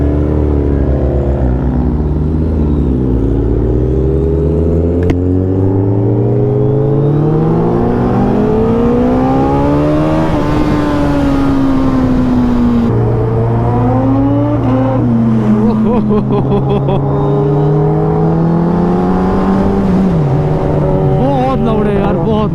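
Kawasaki ZX10R and Hayabusa superbikes on a night ride, engines roaring loud and close with rising and falling revs throughout, under a steady rush of wind.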